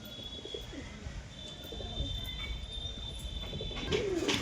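Domestic pigeons from a home loft, including a single white-eyed male, give soft, low coos near the end over steady background noise and a thin, constant high whine.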